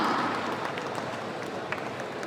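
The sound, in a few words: audience applauding to welcome Hamna on stage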